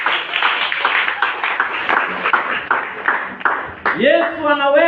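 Church congregation clapping for Jesus, rhythmic group claps in a steady beat under voices, followed by a rising sung or shouted tone at the end.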